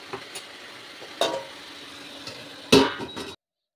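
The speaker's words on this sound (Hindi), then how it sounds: "ये ढक देती हूँ मैं" A lid set over a pot of bottle gourd curry cooking on a gas stove, giving a few sharp metallic clanks and scrapes, the loudest near the end, over a faint low background hiss.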